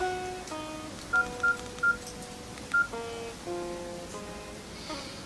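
Touch-tone phone keypad dialing a number, a quick series of separate DTMF beeps in an irregular rhythm, close and clear against a quiet room with no talking.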